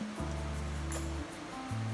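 Cool stream water flowing through a mountain valley on Odaesan's Seonjae trail in autumn, a steady full rush of water close by, with no voices.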